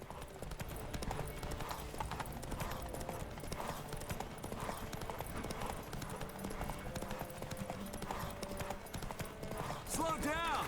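Horse Roach's hooves clip-clop in a steady, quick rhythm in the Witcher 3 video game, over game music and ambience, with a voice speaking over the hoofbeats.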